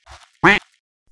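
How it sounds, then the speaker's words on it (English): A single short, loud duck quack in the Darkwood video game, heard alone with a faint murmur just before it. "What the? Duck!"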